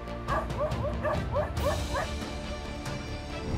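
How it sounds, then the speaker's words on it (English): On a rocky hillside, a domestic dog barks rapidly at a leopard, a quick string of yapping barks over a dense, noisy background, fading after a crash-like burst. "the domestic dog reacted quickly, dodging the leopard's attack and constantly barking at the opponent's face"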